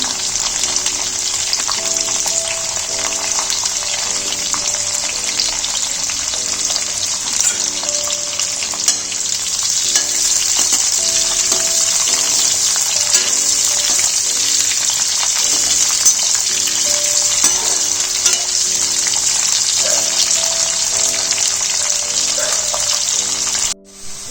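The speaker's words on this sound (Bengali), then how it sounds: "আমি এক এক করে সব ভেজিটেবলসগুলো ফ্রাই করে নিচ্ছি। আমি আগে ফুলকপিটা দিয়ে শুরু করলাম।" Cauliflower fries in a pan with a loud, steady sizzle that persists throughout, with occasional stirring sounds and no talk.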